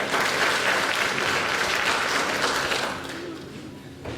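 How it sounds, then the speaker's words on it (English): A congress audience claps in dense, sustained applause at the 23rd Annual Congress of AMESA. The applause stays loud and even, then thins and softens over its final second, with no speech over it. "Another round of applause to our secretary."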